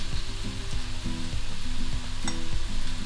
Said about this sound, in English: So this is what you need to hear whenever you are frying meat.